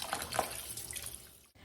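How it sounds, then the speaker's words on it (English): Water running and splashing while draining liquid off homemade butter in a bowl, made from heavy whipping cream; a steady close pour with a few brief splashes, stopping abruptly near the end. "And that is my last time draining this."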